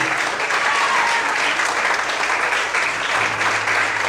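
Church congregation applauding during an evening service, a dense, steady wash of many hands clapping together, loud and continuous throughout with faint voices mixed in.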